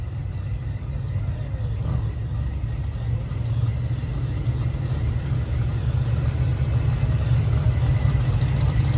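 A supercharged Nova drag car idles at a drag strip with a steady, heavy low rumble that holds evenly throughout, backed by faint broadband track noise.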